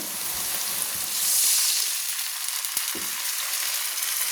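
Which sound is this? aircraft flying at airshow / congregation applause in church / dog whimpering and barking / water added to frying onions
water added to frying onions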